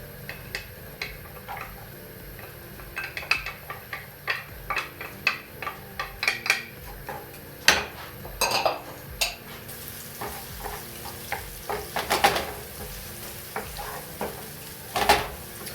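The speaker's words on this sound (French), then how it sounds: "on va laisser un petit peu suer les oignons" Sliced onions and garlic sizzle softly in a pan, with irregular sharp ticks and scrapes of a utensil stirring against the cookware, close and without talk.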